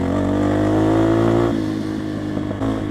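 A Motorhead Sports 250 dirt bike engine revs loudly up close, its pitch rising and holding before dropping back to a rougher idle-like rumble with a small blip near the end.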